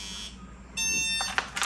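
Temperature alarm on a Circuit Playground device sounding in sharp electronic beeps, a steady high tone starting partway through followed by a few short bursts, close and clear with no talk.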